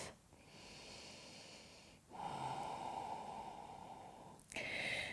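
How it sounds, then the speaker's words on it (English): Slow, audible breaths during a yoga flow, each drawn-out inhale and exhale close and soft, with short pauses between them and no talking. "Breathe."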